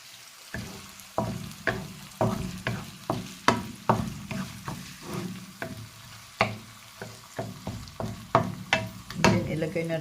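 Sliced white onion frying and being stirred in a pan: a steady sizzle broken by regular scraping strokes of a utensil, close and moderately loud, no talk.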